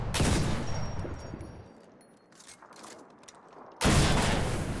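Anti-tank rifle shots fired at a StuG tank in a video game: two loud heavy blasts several seconds apart, each with a rumbling decay, close and without talk.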